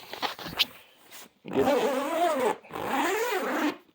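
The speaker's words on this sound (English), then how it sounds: "these big loud zippers" Two long, loud zipper pulls on a hunting blind rasp one after the other, preceded by a few small clicks and rustles.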